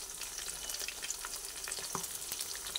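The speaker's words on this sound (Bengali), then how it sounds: "এগুলো ভাজা হয়ে গেছে, সেগুলো তুলে নিচ্ছি।" Potato-stuffed pointed gourd (potol) crackles and sizzles continuously in frying oil, a soft, close, even hiss with small pops and no voices.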